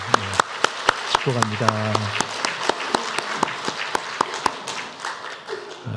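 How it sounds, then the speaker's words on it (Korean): Church congregation clapping during a Sunday worship service, sharp scattered claps spread through the hall, with a voice speaking briefly over them. "한번 큰 박수로 축복하도록 하겠습니다"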